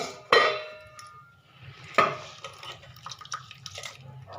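A lid lifted off a container of pearl millet soaked for six hours, with two sharp clanks of metal followed by faint clinks and small drips.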